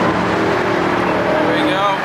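A Dodge Challenger SRT in track mode revs on a downshift, a loud car roar that rises in pitch toward the end of the short burst.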